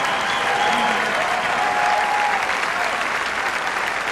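Audience applause fills a ballroom at a Latin dance competition final, a steady dense wash of clapping from a large crowd that holds evenly throughout without pause.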